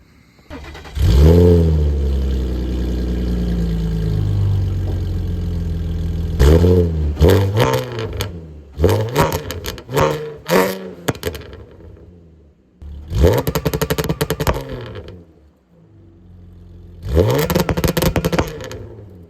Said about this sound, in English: I revved it up a little bit for you guys